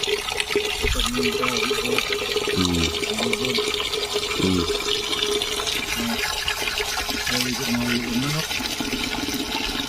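Water flows and splashes steadily in a backyard turtle pool, a continuous rushing wash with a few gurgling bursts, while people talk faintly in the background.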